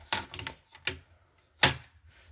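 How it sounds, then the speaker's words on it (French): A paper trimmer cuts through sheets of paper with a few sharp swishing slices separated by pauses, close by, the last cut loudest. "Et bien sûr, je prends un coupe-papier."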